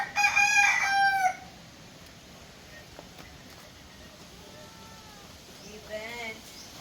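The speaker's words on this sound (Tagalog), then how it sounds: "ang tandang ang iingay po" A rooster crows loudly nearby, then a quieter crow answers from farther off over steady wind noise, with no talking.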